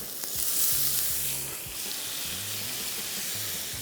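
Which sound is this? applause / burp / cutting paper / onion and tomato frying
onion and tomato frying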